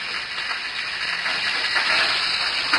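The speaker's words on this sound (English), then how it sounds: "You want to hear that sizzle." Beef sizzles in hot oil in a pan, a steady, close crackling hiss that carries on without a break.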